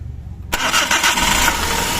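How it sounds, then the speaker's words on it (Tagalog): A Suzuki DA64's engine cranks and catches after a half-second of near quiet, then settles into a close, even idle. "ngayon papaandarin ko ang engine"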